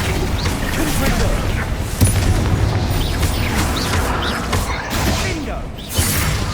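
Confringo fire spells exploding in Hogwarts Legacy: dense, continuous rumbling blasts and whooshes with heavier booms around two and six seconds, loud and busy, with a voice shouting over the fight.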